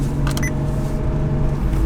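A BMW 135i with a manual gearbox, rated around 306 horsepower, starting by push button and settling into a steady, loud idle, with a brief high-pitched whine near the start.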